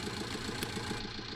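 Tractor engine idling in the farming game Farming Simulator 19, a steady low rumbling drone with an even mechanical pulse, constant and close, without talking.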